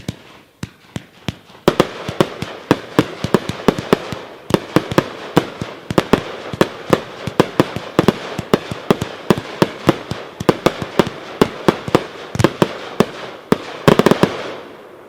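A 42-shot firework cake firing orange-tailed shells that burst into orange dahlias: dozens of sharp launch thumps and crackling bursts in a rapid, fairly steady rhythm, loud and close, with a dense closing volley.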